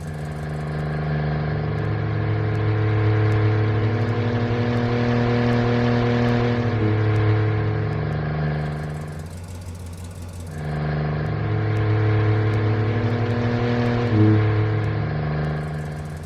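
Car engine drone with steady harmonics as four engine samples crossfade with RPM, shifting smoothly in pitch and texture, dipping to a brief noisy gap midway before the rumbling tone returns, loud and close.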